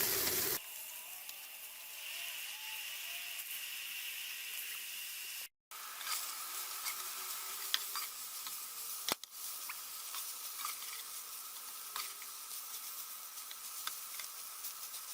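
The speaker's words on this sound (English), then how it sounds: "now I'm going to fry it up. I've got a heated cast iron skillet." Food fries in a heated cast iron skillet coated with nonstick spray, giving a steady soft sizzle with scattered crackles and two brief dropouts.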